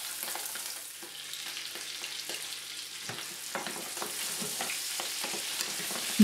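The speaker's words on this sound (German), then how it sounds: "Die Filets auf der Hautseite knusprig anbraten. Dann Butter dazugeben." Char fillets fry skin-side down in a hot non-stick pan with oil and butter, giving a steady close sizzle with scattered crackles and pops and no voices.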